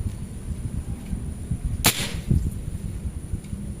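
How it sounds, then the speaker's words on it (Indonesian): One crisp shot from a Predator SS-38 PCP mini air pistol, a short sharp snap just before the two-second mark, standing out close and loud over steady low background noise. "Tembakan ketiga"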